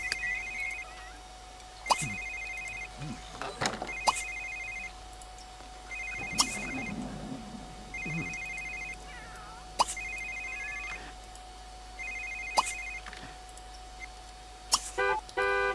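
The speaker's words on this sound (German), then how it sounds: "Und es bimmelt schon wieder das Telefon." A telephone rings repeatedly in The Sims 3, short bright electronic trills spaced about two seconds apart, with scattered clicks and game sounds between them.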